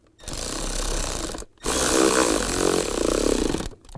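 A power driver tightens screws on the blower motor resistor of a 2007-2013 Chevrolet Silverado, giving two close, loud whirring bursts split by a short pause.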